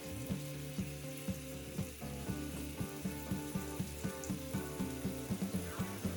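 Steady, crackling sizzle of small crucian carp frying in a pan, with bursts of spattering oil popping at a fairly regular pace, close and continuous.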